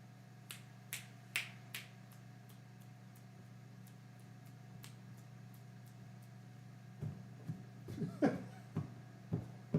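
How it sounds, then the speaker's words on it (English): Several crisp finger snaps ring out near the start, played to entertain a cat. A steady low hum runs underneath, and louder handling noises and scuffles follow toward the end. "I didn't know that me snapping my fingers was so entertaining for her."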